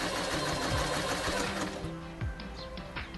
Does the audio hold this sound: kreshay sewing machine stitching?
yes